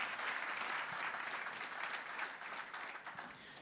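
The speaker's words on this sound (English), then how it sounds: "Let's give Ezzy a round of applause, can we?" Audience applause in a church service, a dense sustained round of clapping from a crowd that stays steady and fairly loud throughout, tapering slightly toward the end.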